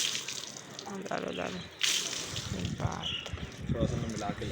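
Water splashing and trickling as it is poured over a cow recovering from lumpy skin disease, in uneven bursts with clattering, while people talk nearby.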